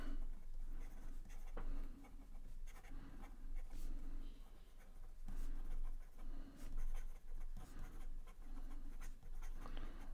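A Pilot Birdie fountain pen writes quickly on paper, giving a steady close-up scratching with short strokes and brief pauses, uninterrupted by speech.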